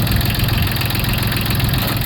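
An old tractor engine idles close and loud in a steady, rough, knocking chug with no break for the whole short stretch.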